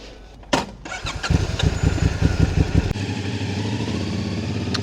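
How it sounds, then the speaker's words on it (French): A CFMOTO 450SR motorcycle engine cranks and fires, catching with a sharp burst, then settles into a steady, throbbing idle close by with no one speaking. "On va aller tester cette petite SR 450 de chez CF Moto."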